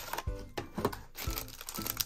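Plastic wrapper of a Jujutsu Kaisen Man Choco snack, a chocolate packet with a Kaiyodo figure and sticker, crinkling and crackling up close in quick irregular bursts as it is handled and opened, with no talking.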